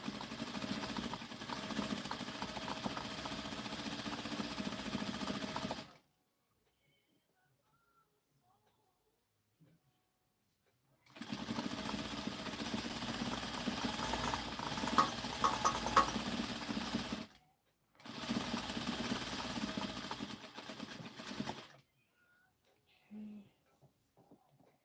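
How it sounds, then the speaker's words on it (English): A sewing machine stitches a 1-inch underarm seam on a knit sleeve in two steady runs of motor hum, each several seconds long and separated by a silent pause, then a short final burst. "Now I'm sewing a 1-inch seam under the arm"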